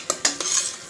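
Curd being stirred into mushroom biryani masala in a pot, a short burst of a few quick spoon scrapes and clinks over a light sizzle, close and clear.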